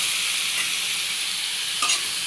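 Chopped squid sautéing with garlic, onion and ginger for adobong pusit gives a steady, close sizzle with a brief stirring scrape near the end, and no voices.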